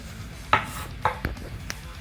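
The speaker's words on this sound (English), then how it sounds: "We're going to chop this up fine." A knife chops a seeded, deveined jalapeno on a cutting board, with a few separate close knocks spaced unevenly across two seconds and a quiet kitchen behind them.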